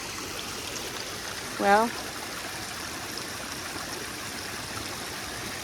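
Floodwater rushing through an overflowing backyard pond during Hurricane Helene flood alerts, a steady close-up roar that never lets up, with someone briefly speaking over it.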